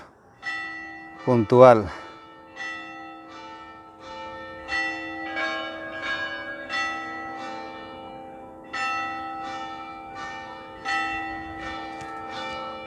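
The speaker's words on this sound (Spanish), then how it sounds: "ahí están las campanadas de las 8," Church bells in Alessandria, Italy strike eight o'clock: a sequence of resonant, ringing strokes with long overlapping hums, spaced steadily over several seconds. A voice speaks briefly near the start.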